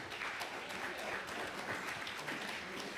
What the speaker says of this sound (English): So big round of applause for our amazing speakers today.